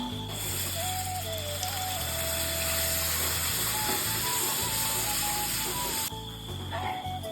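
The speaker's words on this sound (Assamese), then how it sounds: "এতিয়া এইখিনি দৈখিনি একদম ধুনীয়াকৈ উতল আহি গ'ল" Curd fish curry simmering in a pan, a steady hiss and sizzle holding throughout with a low hum beneath, close and even, easing briefly near the end; no talk.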